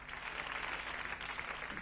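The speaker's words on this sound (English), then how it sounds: "Just applause, isn't it?" Faint, steady applause from a crowd at the end of a played music track, a continuous wash of clapping with no voices over it.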